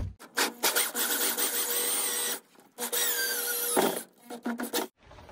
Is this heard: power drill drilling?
yes